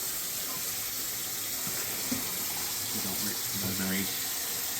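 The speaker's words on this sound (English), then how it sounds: "I'm gonna run a little water first, and then we'll fill it up." Water running into a newly installed washing machine: a steady hiss of flowing water, with faint voices talking over it near the end.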